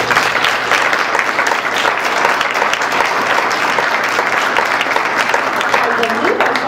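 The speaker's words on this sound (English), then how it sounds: "that alone deserves applause" Sustained applause from an audience at a school district board of education meeting, steady and dense clapping throughout with no break.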